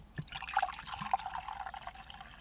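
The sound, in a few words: pouring hot water for tea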